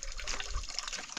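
Water from a stream splashes and trickles briefly as someone drinks from it outdoors, a short, close, burbling liquid sound with no talk.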